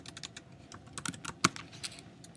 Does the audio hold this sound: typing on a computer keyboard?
yes